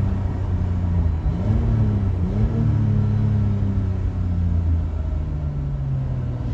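A BMW 3 Series engine hums from inside the cabin, climbing in pitch toward the rev limiter with a couple of dips and recoveries over a steady low road rumble, moderately loud.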